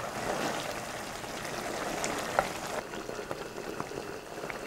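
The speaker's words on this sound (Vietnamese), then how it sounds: "cho từng muỗng bột vào trong nước sốt đang sôi, khuấy tan cho đến khi thấy hỗn hợp nó sánh sệt" Sauce simmering in a pot on the stove while starch slurry is spooned in and stirred, giving a steady low bubbling hiss with faint clinks, continuous and close throughout.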